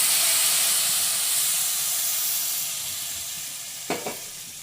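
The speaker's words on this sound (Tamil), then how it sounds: "நம்ம இப்போ கொதிக்க வச்ச வெந்நீயை எடுத்து இதில் கொஞ்சமாக ஊற்றிக்கலாம்." Boiled hot water poured into a hot pan of golden-browned sago while making coconut milk payasam, giving a loud, steady steaming sizzle that slowly fades, followed by two quick clinks near the end.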